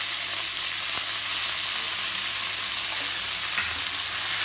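Chicken pieces frying in a pan for a chicken spaghetti dish, a dense, even sizzle that runs steadily throughout with a faint soft knock or two, close and unbroken by speech.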